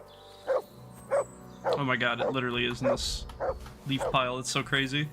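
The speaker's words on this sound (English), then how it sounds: "That's our dog." A dog in a video game gives two short barks. A person then talks excitedly over the game sound, and a few softer yips can be heard beneath the speech.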